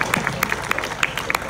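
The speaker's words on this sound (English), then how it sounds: "let's give those people some support and a round of applause" Scattered claps and brief cheers from a crowd at an outdoor charity event, light and patchy with distinct individual hand claps standing out over a soft murmur.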